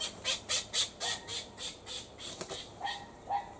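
King parrots feeding on apples in a Red Delicious apple tree give a rapid series of harsh, rhythmic squawks, about a dozen calls at a steady pace, moderately loud at middle distance.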